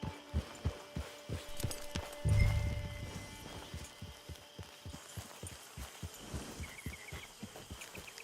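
Horse hooves clip-clop in Red Dead Redemption 2 in a steady, close walking rhythm of regular thuds, with a brief louder snort or whinny partway through.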